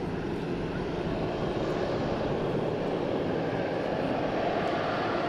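A heavy airliner departs close by at DFW airport, giving off a steady, dense low-frequency engine rumble that holds level without rising or fading.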